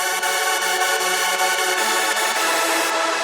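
Clean first layer of a hardstyle synth chord, a bright sustained harmonic pad with soft rhythmic pulses, held steadily and loud for about three seconds with no voices.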